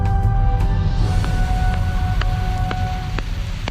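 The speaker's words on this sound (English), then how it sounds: "a constant barrage of galactic white noise" Steady rumbling static with faint sustained tones and sporadic sharp crackles and clicks, no voices.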